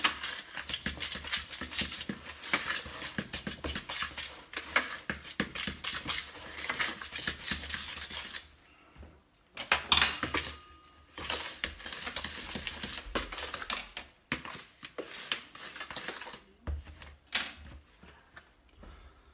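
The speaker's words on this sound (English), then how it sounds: "Right, so give this a quick mix up." Dry baking ingredients being mixed in a bowl in a home kitchen, giving a steady, busy scraping and rustling for about eight seconds, then fainter, intermittent stirring with short pauses.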